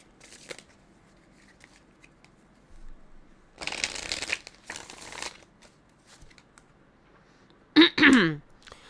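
A tarot deck being shuffled before one more card is drawn: two short bursts of riffling in the middle and a sharp, louder flurry near the end, separated by quiet stretches.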